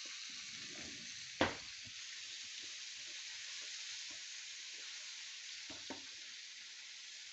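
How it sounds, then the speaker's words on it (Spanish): Lamb stew ingredients for a caldereta sauté in a pan with a steady, soft sizzle and frying hiss throughout, broken by a sharp clatter near the start and a smaller knock toward the end. "Venga, y ahora a rehogar."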